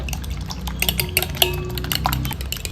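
Eggs being beaten for egg chilli, a fork or whisk clicking rapidly against a bowl in a quick irregular patter, close and fairly loud with no talk.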